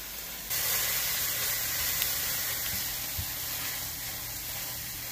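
Spices frying in oil for chicken tikka masala give a steady, even sizzling hiss that starts abruptly just after the opening and carries on unbroken at a moderate level.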